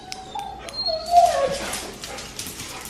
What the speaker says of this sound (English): but Foster got in trouble for trying to bark at the neighbor dog